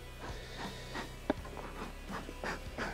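Honeybee drones buzz around an opened hive, a soft steady hum close by with a brief louder pass partway through and no speech.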